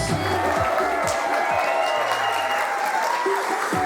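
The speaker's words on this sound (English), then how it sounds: "they deserve every bit of applause you gave them" Audience applause after a stage dance tribute to Fred Astaire, steady dense clapping mixed with cheering from a large crowd, loud and continuous throughout, with some voices calling out beneath it.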